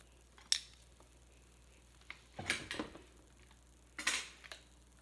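Scissors snip hair on a mannequin during a short haircut, a few separate crisp metallic clicks and cutting bursts with quiet pauses between them, close up and faint, with no talking.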